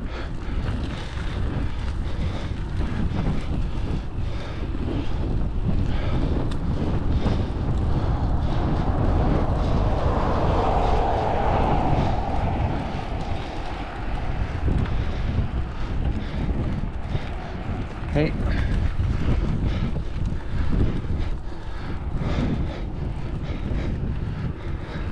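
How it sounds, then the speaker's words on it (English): Strong wind buffets the microphone on a gravel bike ride, a loud, continuous low roar with gusting surges that lasts throughout, with no speech heard. "God, that wind's picked up"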